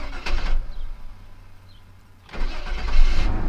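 A junky Chevy Tahoe that had been sitting since 2014 cranks and fires up, with short starter bursts followed by the engine catching and running loudly up close.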